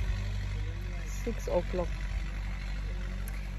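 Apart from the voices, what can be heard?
tractor engine running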